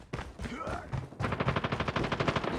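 Video game gunfire rattles in rapid automatic bursts, with a short scattered volley followed by a steady fast run of shots, loud and close.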